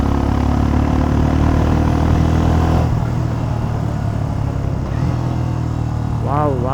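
A Royal Enfield Scram 411 motorcycle being ridden, its engine a steady loud drone with wind rush that shifts in tone partway through, while a rider speaks over it.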